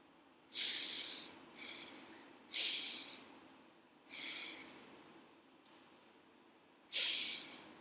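Patient taking deep breaths during a chest examination, four loud airy inhale-exhale rushes at regular intervals, close-miked with quiet pauses between them and no speech.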